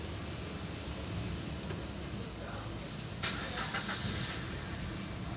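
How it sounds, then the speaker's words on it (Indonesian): Manual car engine just started and idling at about 800 RPM, a low, steady rumble under broadband noise with a short rattling burst partway through. "Nah, ini teman-teman ya, mesinnya udah nyala ya, RPM-nya udah di 800."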